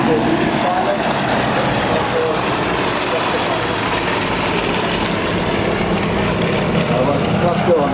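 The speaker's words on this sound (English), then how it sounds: "This aircraft is fully aerobatic, a military trainer, and very similar to the arm that you saw earlier." A Harvard military trainer aircraft flies past at an air show, its propeller engine producing a steady, loud, broadband roar that holds for the whole stretch, while an announcer talks over it.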